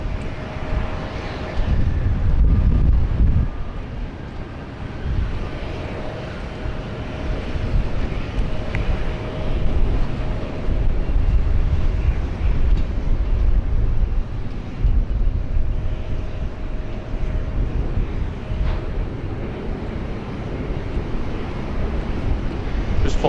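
Air China Airbus A330-200 arriving at Sydney Airport after a long-haul flight from Shanghai, its engines a steady loud roar sustained throughout with wind buffeting the microphone.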